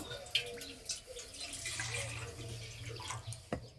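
Water running and splashing into a bowl meant for grated potatoes in a home kitchen, a steady, moderately close flow with small splashes and a brief clink near the end.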